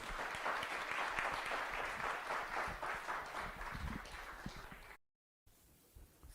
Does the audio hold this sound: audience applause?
yes